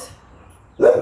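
Several dogs bark in a short loud burst near the end, after a stretch of quiet room background.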